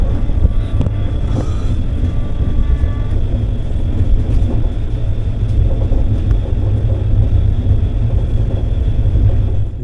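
A double decker train running from Coimbatore to Bangalore rumbles steadily from inside the carriage, a loud continuous low roar with wind noise and faint rattles, no talking.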